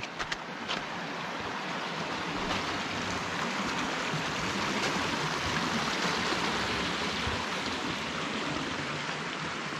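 A stream of snowmelt water at the source of the Rio Tajo in Spain's mountains, rushing and splashing in a continuous, fairly close wash of sound without talk.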